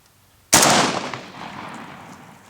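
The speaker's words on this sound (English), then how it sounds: "We got some Tula ammo, 124 grain full metal jackets, and we're going to be using our Century Arms C39" A single loud, close gunshot from a Century Arms C39 V2 rifle firing Tula 7.62x39 124-grain full metal jacket ammunition at a barbell weight plate, with a sharp crack followed by a long, fading echo.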